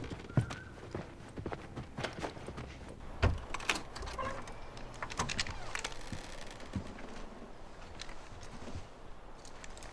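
Horse hooves clopping in The Last of Us Remastered on PS5, a fairly quiet run of irregular, scattered knocks over a soft ambient bed, with one slightly louder thump partway through.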